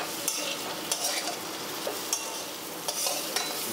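Spices and dried red chili powder sautéed in a pan for a restaurant-style navratan korma, a steady close sizzle with occasional scraping stirs of a spoon against the pan, no talking.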